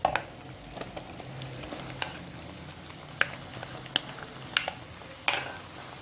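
A utensil scrapes and clinks against a pan as marinated chicken is stirred into lightly fried onions, giving irregular sharp taps over a soft, steady sizzle.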